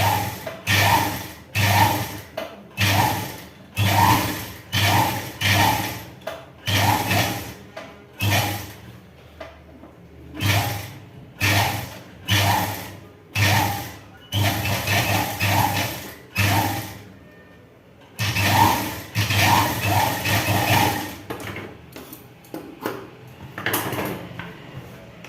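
A sewing machine stitches a chudi in a tailoring lesson, running in short, evenly spaced loud bursts with brief pauses, then a longer continuous run, alone without talk.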